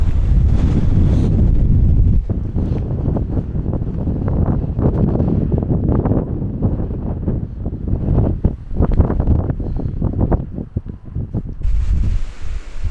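Strong gusts near Black Mountain Bothy pound the microphone in a loud, continuous buffeting roar that rises and dips in waves, with no other sounds breaking through.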